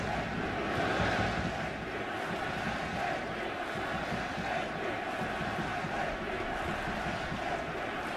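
A dense soccer stadium crowd in Seattle produces a steady, broad roar of massed voices, chanting blended into a continuous wash of noise at moderate distance without distinct breaks.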